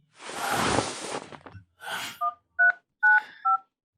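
Telephone keypad dialing, four short distinct DTMF tones in a quick irregular sequence, preceded by a breathy whoosh-like exhale, close and clear with no talking.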